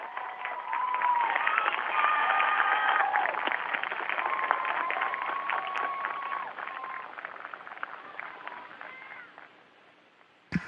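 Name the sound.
students applauding the astronauts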